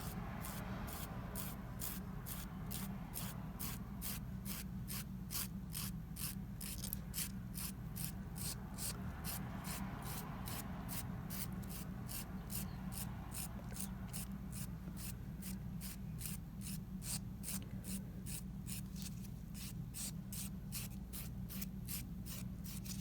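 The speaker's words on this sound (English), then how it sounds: "I'm gonna file it down." A nail file scrapes down a fabric nail wrap in quick, evenly spaced strokes, a rhythmic soft rasping that repeats for over twenty seconds, close and quiet over a low steady hum.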